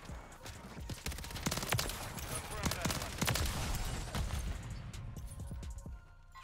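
Fast-firing SMG bursts in Modern Warfare 3 multiplayer, loud and close, crackling in dense rapid volleys for several seconds before tapering off near the end.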